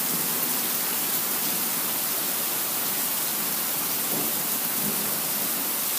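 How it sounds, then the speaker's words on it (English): Steady, dense rain pours down over a misty bay during a rainstorm, a continuous even wash of noise close by with no voices. "There's more rain on the bay."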